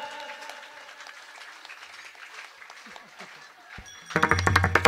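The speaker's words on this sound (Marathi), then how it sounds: "टाळ्या टाळ्या एक साथ" A kirtan audience breaks into loud, unison clapping near the end, after quieter singing and speech, and the rhythmic claps fill the hall.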